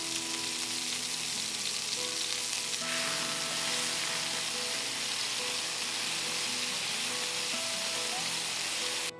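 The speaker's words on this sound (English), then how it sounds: "We're just gonna take these and sizzle them for about 3 to 4 minutes on each side." Bison patties sizzle steadily in a hot cast iron skillet, a loud crackling fry with a constant hiss and no talking.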